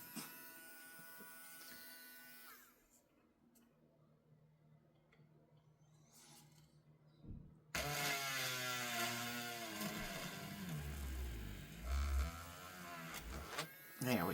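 A small power drill boring into plastic parts of a Bandai Star Blazers 3199 Cosmo Python model kit, a steady whining buzz that shifts pitch and cuts in and out, loud and close, with a quieter stretch in the middle.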